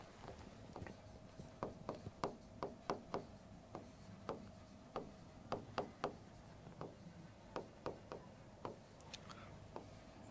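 A pen writes by hand on a board or paper in a series of quick, faint scratchy strokes and taps, close and quiet, with a soft hum behind them.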